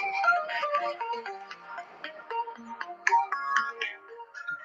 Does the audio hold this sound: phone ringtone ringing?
yes